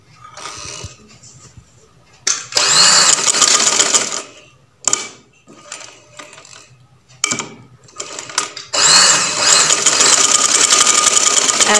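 Sewing machine stitching a pleat on a kameez: rapid mechanical whirring bursts that start and stop several times, with quiet pauses between runs of stitching.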